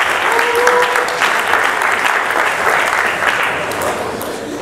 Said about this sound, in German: gibt fast schon Applaus, würde ich sagen